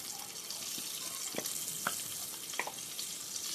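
Ghee sizzles in a kadai for egg biryani, a steady soft hiss of frying with a few light clinks and stirring knocks close by.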